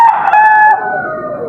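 A fighting rooster crows once at a market selling gamecocks, loud and close, its long drawn-out call tapering off toward the end.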